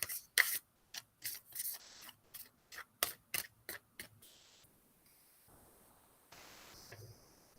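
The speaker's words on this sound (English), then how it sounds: "So I'm going to shuffle it up" An oracle card deck is shuffled by hand in a rapid run of about a dozen crisp, papery riffles and slaps, close up, followed by softer sliding and tapping of the cards.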